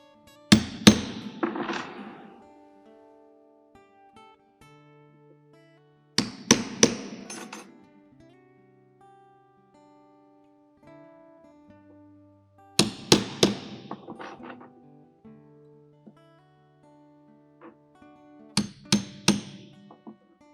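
A hammer strikes a tool to punch a hole while an instrument is being covered with leather at a cultural fair in Planaltina, Brazil. Four bursts of quick, ringing metallic blows come close and loud, separated by quiet gaps with faint tonal background sounds.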